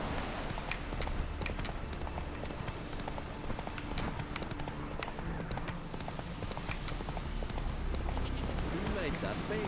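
Galloping hooves of Roach, the horse in The Witcher 3, pounding out a steady fast rhythm that runs continuously at an even level under game voices and talk.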